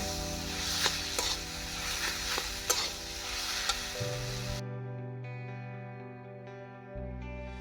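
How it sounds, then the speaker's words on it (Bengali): A vegetable chop mixture is mixed by hand, with close, uneven scraping and tapping strokes. After a few seconds the mixing gives way to sustained tonal music. "এইভাবে এটাকে ভালোভাবে এটাকে মিশিয়ে নিতে হবে, খুব সুন্দরভাবে যাতে মিশে যায়।"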